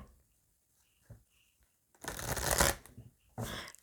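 Oracle de la Triade cards are shuffled by hand in short riffled bursts, a soft flutter, then a longer rapid rustle, then another burst, close and fairly quiet, with no voice.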